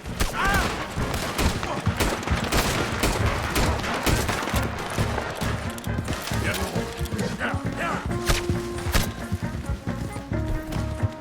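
A chaotic Red Dead Redemption 2 shootout, dense overlapping gunfire cracking continuously amid horse hooves and whinnies, with shouting voices mixed throughout.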